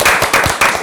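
A short burst of clapping from a discussion forum audience, a few distinct, close claps in a quick rhythm, loud and brief.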